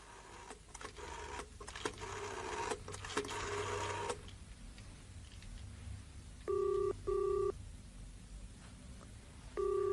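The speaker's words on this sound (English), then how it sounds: "Well, there's your phone in action again," An old telephone rings in short repeated bursts, three rings spaced apart after a stretch of muffled rumbling and clatter, moderately loud in a quiet room.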